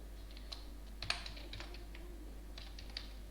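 Close, irregular keystrokes on a computer keyboard while code is entered, soft clicks over a low steady hum with no talking.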